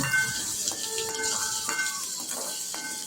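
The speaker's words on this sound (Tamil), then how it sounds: "கருவேப்பிலை போட்டுட்டு நல்லா எண்ணெயில் நல்லா வதக்கி விடணும்." Curry leaves sautéing in hot oil for chicken gravy, giving a steady close sizzle with faint clinks of a spoon against the pan and a few brief tonal rings.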